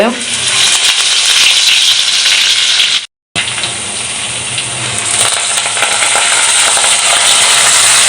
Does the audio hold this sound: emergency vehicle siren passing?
no